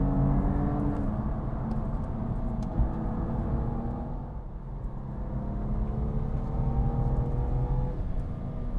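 BMW M2 Competition running laps at Brands Hatch on worn Goodyear Eagle F1 SuperSport tyres, its engine droning and sweeping up and down through gears from inside the car, a steady whirring rumble with a brief dip midway.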